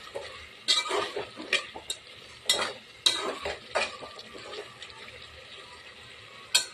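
A veg biryani mixture is stirred in a pot with a series of sharp metal scrapes and clinks, irregular and fairly close, over a low background hiss with no talking.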